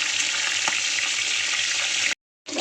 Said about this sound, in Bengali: দিয়ে লাল লাল করে ভালো করে ভেজে নেব